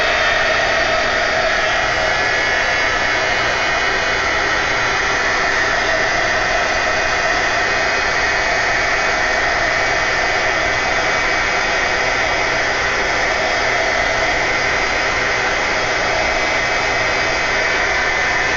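A hair dryer blows a constant loud roaring whoosh across a stamped image painted with watercolor, running unbroken and close the whole time with no other sounds.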